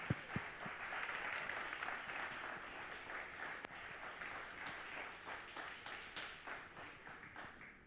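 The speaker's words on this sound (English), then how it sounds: "If we could give a round of applause to her." An audience at a 2025 fashion show applauds a designer, steady dense clapping that runs for several seconds at moderate distance, slowly thinning toward the end with no voices over it.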